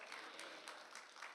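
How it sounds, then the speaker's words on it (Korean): Applause from a church congregation, a short, soft burst of many hands clapping together, fairly distant and even throughout. "큰 박수 한번 쳐주세요"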